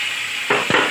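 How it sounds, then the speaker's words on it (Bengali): Gobindobhog rice hits a hot pan with spices for veg pulao, giving two quick close sizzling bursts over a steady background hiss of frying. "এবারে গোবিন্দভোগ চালটা দিয়ে দিলাম।"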